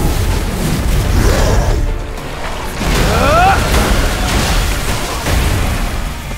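Explosive booms and bursts from combat in the video game Solo Leveling Arise, a Demon Castle boss fight, loud and layered over game music and effects, with a character voice speaking over them.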